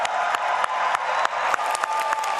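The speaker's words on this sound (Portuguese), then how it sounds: "pedir também uma salva de palmas para o meu querido amigo e líder secretário nacional da Juventude, Ronald Sorriso" An audience at a national youth conference applauds, a steady crowd clapping with a few sharper accents and light cheering, close and continuous.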